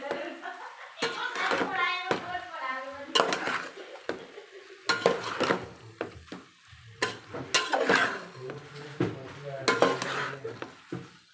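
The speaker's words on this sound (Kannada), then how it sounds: "ಕ್ಯಾಪ್ಸಿಕಮ್ ಇವಾಗ ಚೆನ್ನಾಗಿ ಮಿಕ್ಸ್ ಮಾಡ್ಕೋಬೇಕು ಒಂದೆರಡು ನಿಮಿಷ" Capsicum, paneer and masala are stirred in a pan for vegetable pulao, with scraping spoon strokes and clinks against the pan over a soft sizzle, close up and irregular, while someone talks throughout.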